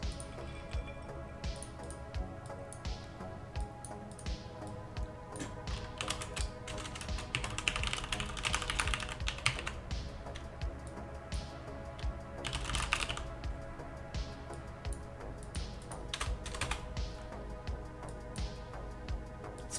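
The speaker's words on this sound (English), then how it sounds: "I've got a mechanical keyboard. I like the clicky-clacky keyboards." Rapid clicky keystrokes on a mechanical keyboard, in bursts of fast typing with short pauses, close up and fairly quiet.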